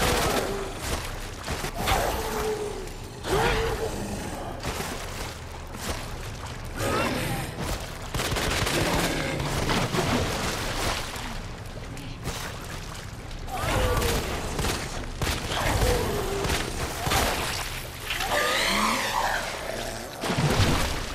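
Gunfire aimed at a G monster in the sewers of Resident Evil 2 Remake, loud repeated volleys of shots in bursts over heavy combat noise, with a voice talking in between.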